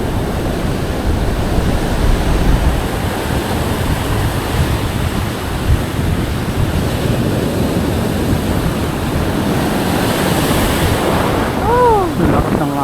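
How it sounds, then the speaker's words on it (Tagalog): Strong sea waves break continuously on a shore during shore casting, a loud, steady surf roar with gusty wind buffeting the microphone and no clear talk. "Lakas ng alon na"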